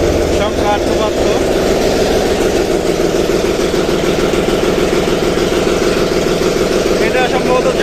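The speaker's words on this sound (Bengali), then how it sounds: "এটা হচ্ছে ইঞ্জিন রুম।" The engine room of the Redsun 5, a passenger launch on the Boxibazar–Char Montaz route, carries the loud, steady, close drone of a running diesel engine, continuous and unbroken throughout.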